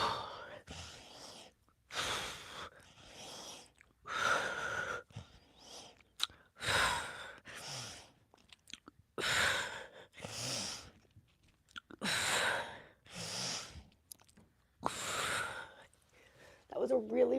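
A person breathes hard and audibly after ten push-ups, with repeated heavy exhales and sighing gasps in irregular bursts separated by short quiet gaps, close to the microphone.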